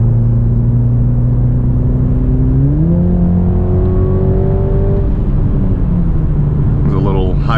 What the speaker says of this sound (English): There's a little highway speed pull